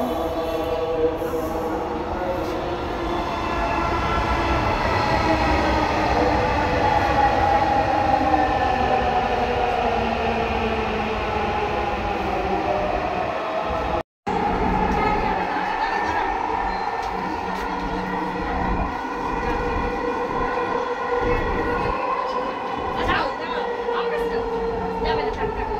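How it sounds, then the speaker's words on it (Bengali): A metro rail train runs steadily in Dhaka, with a continuous rumble and hum and a smooth whine rising and falling. The sound stays loud and close, as heard from onboard, with a brief dropout midway and some voices in the background. "এই তো মেট্রো রেলে চলে আসছি।"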